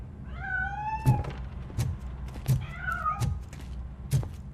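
A cat in the video game RoboCop: Rogue City meows a few times in clear, rising and falling calls, with several dull thuds and knocks spaced between them.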